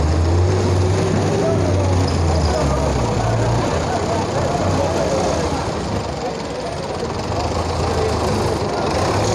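A pickup truck labours along a blocked, rough dirt road with a loud, continuous engine drone and rumble, and a voice talks over it throughout.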